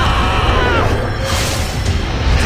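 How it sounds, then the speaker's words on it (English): A video game explosion in Tower of Fantasy makes a dense, loud, sustained roar of booming and crashing noise. "We can go back before the explosion!"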